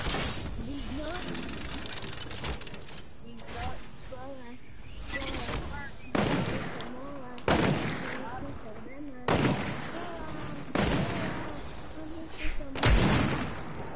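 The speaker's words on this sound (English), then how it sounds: "Dude, stop shooting at my building." Repeated bursts of gunfire in Fortnite, loud sharp shots recurring every second or two over fourteen seconds, with players talking throughout.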